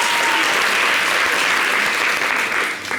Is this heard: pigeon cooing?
no